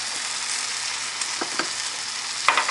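A protein pancake sizzles steadily in a hot pan, a constant close frying hiss with a few soft pops and crackles near the end, no talking.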